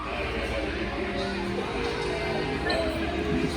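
Crowd gathering at the Indy Disney Meet main stage: a dense, steady murmur of many overlapping voices with faint cheering, continuous and fairly close throughout.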